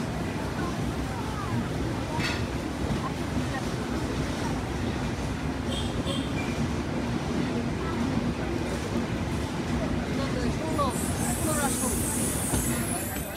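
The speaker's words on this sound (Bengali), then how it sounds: "আমাদের ট্রেন এত সময় বড়াল ব্রিজ স্টেশনে তার যাত্রা বিরতি শেষ করে আবারও চলতে শুরু করলো" Dhumketu Express passenger train on the Dhaka to Rajshahi route pulling away from Boral Bridge station, a steady close rumble of wheels and carriages rolling continuously with a faint high hiss near the end.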